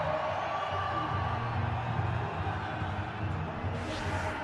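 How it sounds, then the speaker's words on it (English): Cricket stadium crowd cheering after a boundary off a length ball, a dense, steady roar of many voices filling the whole stretch without a break. "The cheering continues"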